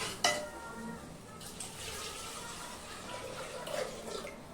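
Water runs from a kitchen tap in a soft, continuous stream, fairly faint and close, with a couple of small clinks at the start and end.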